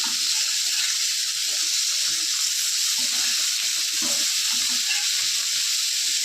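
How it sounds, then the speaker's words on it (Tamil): Fresh fish frying in a pan until crispy: a steady, loud, close sizzle of hot oil with continuous bright hissing and occasional soft pops, with no talking. "இப்போ பாருங்கள், மீன் நல்லா மொறுன்னு வருது."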